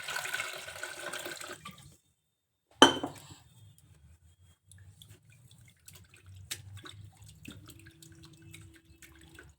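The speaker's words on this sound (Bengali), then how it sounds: "আর একবার দিয়ে দেবো ঠান্ডা জল।" Cold water poured over freshly made chhana (paneer) to rinse it: a brief rush of pouring water at the start, then a sharp clink and scattered faint drips and small kitchen sounds, with no talk.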